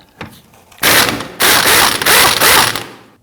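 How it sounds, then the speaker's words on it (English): An 18mm socket on a ratchet loosens the rear sway bar link nuts on a 2001-2009 Volvo S60, producing loud, close bursts of rapid ratchet clicking in several strokes separated by brief pauses, with no talking. "we're going to use our 18mm socket to loosen the nuts"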